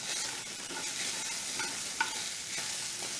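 Chopped onion sizzles in melted butter in a pan, a steady close hiss with a few soft stirring clicks and one brief sharper tap, no voices.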